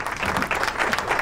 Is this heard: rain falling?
no